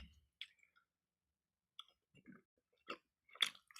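Gum chewed right at the mouth in a quiet room, with soft wet squishes and clicks in scattered bursts separated by silences.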